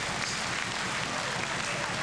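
Boxing crowd applauding a burst of punches, a steady dense wash of clapping and crowd noise at an even level throughout.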